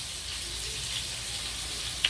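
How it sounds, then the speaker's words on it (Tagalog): Pieces of milkfish (bangus), dusted with a little flour, fry in hot oil with an even, continuous sizzle, close and steady, with a small pop right at the end. "Iprito muna natin."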